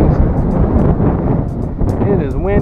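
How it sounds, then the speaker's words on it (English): Strong wind buffets the microphone with low rumbling gusts during a bike ride, and a voice is faintly heard near the end. "It is windy out here"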